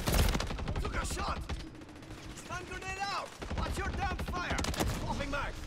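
Rapid bursts of gunfire in Modern Warfare 3 multiplayer on the Hardpoint mode, with repeated loud shots from start to finish. Tonal game sounds and voice callouts are mixed in, and some speech runs under the shots.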